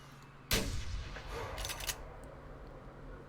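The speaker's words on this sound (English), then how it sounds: "But we're going to shoot him anyway" A rifle shot fired at an elk in theHunter Classic, one sudden loud report with a rolling echoing tail fading over a couple of seconds, no voices.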